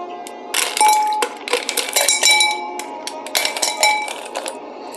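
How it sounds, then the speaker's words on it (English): Ice cubes dropped into a mixing glass and stirred for a Corn 'n Oil rum cocktail of blended rum, Falernum and Angostura bitters, giving a close, busy run of bright clinks and clatter. "I'm gonna put ice in here and stir it."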